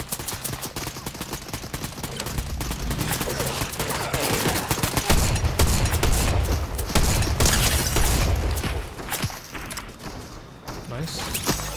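Rapid video game gunfire crackles in dense, overlapping bursts and bangs through most of the round, with a heavier rumbling stretch in the middle and occasional voices talking underneath.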